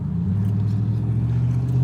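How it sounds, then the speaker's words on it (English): Engine rumble from a truck pulling away on a residential street, a steady low drone that holds fairly loud and close throughout. "this is white truck turning out behind me at the same time"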